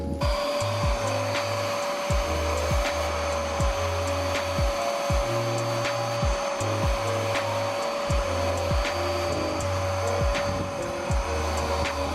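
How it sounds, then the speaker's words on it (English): Steam cleaner working over the back seat of a Civic Si interior, a steady close hiss and whine with a rhythmic low pulsing underneath as the nozzle moves, continuous throughout without speech. "We're gonna steam the back seat, and of course the front seats and the center console."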